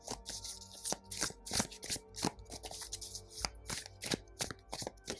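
Tarot cards are shuffled and drawn close up, with repeated crisp riffling bursts and soft slaps of cards coming at an uneven, quick rhythm with no speech.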